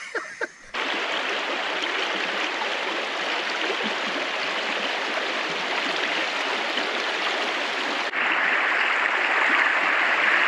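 A creek flowing over rocks in the Victorian High Country, a constant close rushing and splashing of water that stays even and moderately loud, with a brief muffled bump at the start.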